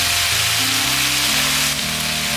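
Zucchini and mushrooms stir-frying in a pan, giving a steady close sizzle throughout with low background music underneath.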